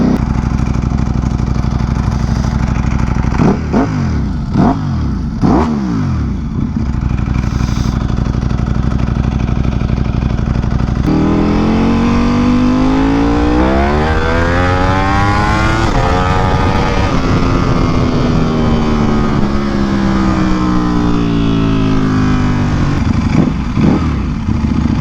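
Ducati Panigale V4 Superleggera superbike ridden hard, its engine note rising and falling through gear changes with sweeping pitch climbs, loud and close throughout with steady wind rush and no talk.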